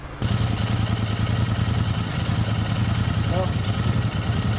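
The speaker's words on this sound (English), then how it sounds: "So the rumble we were talking about is truly there on this fuel-injected bike." A steady, deep fuel-injected Royal Enfield 650 twin motorcycle engine rumble idling close by, continuous and loud with a low throbbing pulse throughout.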